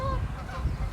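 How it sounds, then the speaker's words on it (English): Geese honking as they fly over a road in Regina in early April, several calls overlapping in a short, steady burst against outdoor background noise. "Geese flying over."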